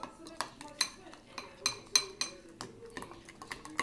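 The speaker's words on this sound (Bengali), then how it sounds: "এখানে টমেটো ক্যাচাপ মিক্স করে দিচ্ছি" Tomato ketchup being stirred into a barbecue marinade in a bowl, with a utensil clinking and scraping against the dish in quick, irregular strokes, close up and fairly clear.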